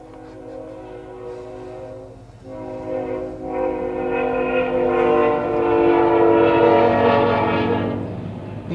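A BNSF train passes on nearby tracks and sounds a loud, sustained horn. The horn swells over a steady rumble of rolling cars, and no one speaks.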